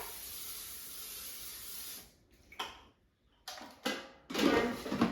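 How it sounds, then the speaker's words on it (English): A steady hiss of oil spray into an air fryer basket runs for a couple of seconds, then a pause and several short sprayed bursts, close by and moderately loud. "So I will spray it with the oil spray"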